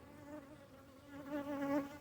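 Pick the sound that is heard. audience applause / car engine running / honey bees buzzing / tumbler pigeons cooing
honey bees buzzing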